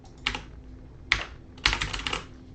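Computer keyboard keys pressed during a beginner programming session, a few sharp clicky taps in an uneven rhythm: one, a lone press, then a quick cluster of two or three, close and clear over a quiet background.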